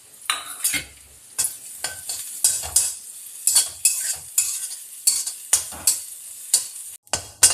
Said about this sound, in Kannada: ಚೊಗಟೆ ಸೊಪ್ಪನ್ನು ಎಣ್ಣೆ ಹಾಕಿ ಹುರ್ಕೊಳ್ಬೇಕು.